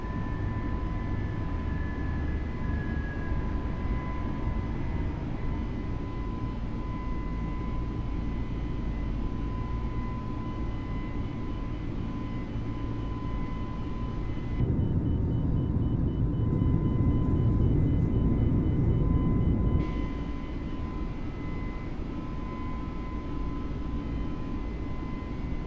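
Jet engines of an A32NX airliner in Microsoft Flight Simulator hold a steady, loud roar with a thin whine during the takeoff climb out of KDFW. The drone swells and thickens for a few seconds midway.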